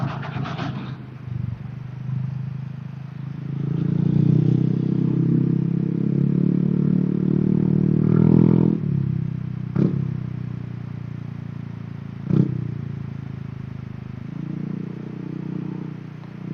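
A motorcycle rides over a potholed provincial road in Tiaong, Quezon, its steady close engine drone punctuated by a few sharp clattering jolts from bumps.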